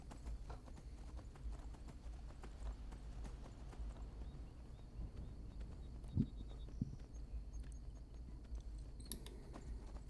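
Horse hooves clip-clop steadily along a road in Skyrim, a faint continuous patter at moderate distance over quiet ambient background, with a brief louder hoof knock midway.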